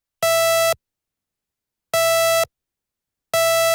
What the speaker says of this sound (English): sawtooth.